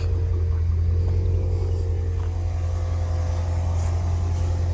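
Steady low rumble of a Mercedes CL55 AMG Black Series with a widebody kit and tune, heard from inside while it runs, constant and droning with no other sounds.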